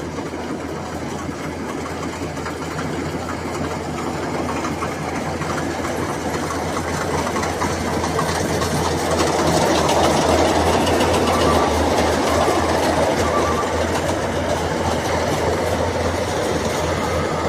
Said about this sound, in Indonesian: jadi seperti inilah caranya panen padi, cara terbaru ya teman-teman, dengan mesin